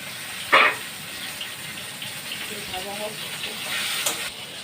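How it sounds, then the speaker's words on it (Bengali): Eggplant and stalks frying in a wok with spices, a soft steady sizzle with a sharp splash of oil early on and faint stirring, brief voices in the background. "বেগুন আর ডাঁটাটা ভাজতে দেবো"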